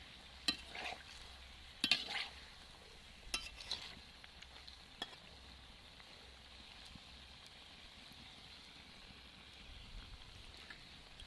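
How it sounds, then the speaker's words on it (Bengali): Ripe jackfruit fritters fry in oil over a medium flame, giving a soft steady sizzle with occasional stirring clicks and utensil taps, fairly quiet and without talk. "এইভাবে তিন থেকে চার মিনিট টাইম ধরে ভেজে নিতে হবে"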